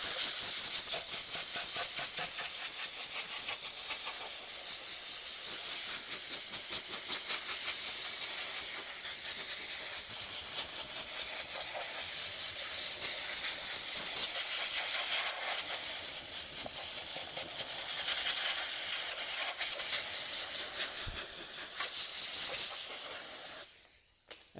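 A forced-air blower pushes a steady, loud rushing hiss across rubber floor mats to dry them. The hiss holds constant for over twenty seconds before dropping away at the end.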